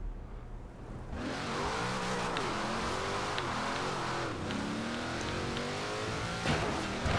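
A tuned A-class car in Forza Horizon 4 drives through city streets, its engine revving loudly and steadily with gear shifts and pitch swings throughout, alone without talk.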